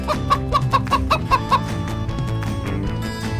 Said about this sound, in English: Yellow chicken.